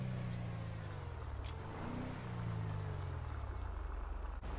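A company car driving along, a steady low engine drone with a brief rise in pitch around the middle, smooth and continuous with road rumble, no voices.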